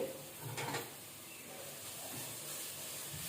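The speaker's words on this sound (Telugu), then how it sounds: "ఇదే నేతిలో బీట్రూట్ తురుముకున్న బీట్రూట్ అంతా ఇందులో వేసేసుకుని వేయించుకుందాం" Grated beetroot frying in ghee over a medium flame for beetroot halwa, with a soft, quiet sizzle and hiss and a brief stir near the start.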